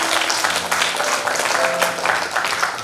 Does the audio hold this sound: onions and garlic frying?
no